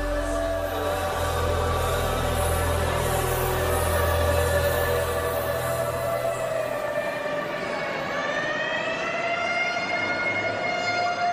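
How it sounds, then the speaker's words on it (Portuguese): Ambulance siren wailing loud and close, a sustained rising and falling tone over a low rumbling engine, with the pitch sweeping upward near the end as the vehicle rushes along. "a ambulância corria para a clínica Santa Eunice em O'Wary."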